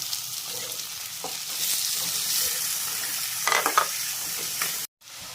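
Chopped onion, ginger and garlic fry in hot oil after mustard seeds have popped for a chicken curry, a steady close sizzle with occasional scraping stirs of a spoon against the pan.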